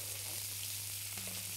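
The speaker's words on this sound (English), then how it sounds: "So see how I'm kind of basting the fish?" Snapper sizzles in a pan of hot butter with capers as it is basted, producing a continuous, even crackling hiss close up with a low hum beneath and no voices.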